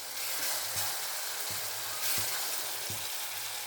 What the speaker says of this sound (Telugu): అలా ఇది కొంచెం వేగాలండి అది, ఎందుకంటే పచ్చి వాసన పోవాలి కదా, గోరుచిక్కుడు కదా